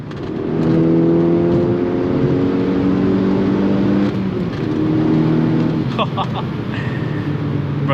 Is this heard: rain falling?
no